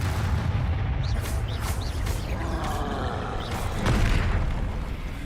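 Spell explosions from the video game Hogwarts Legacy, a continuous rumbling barrage of booming blasts with bursts layered over a dense low-end roar and no voice on top.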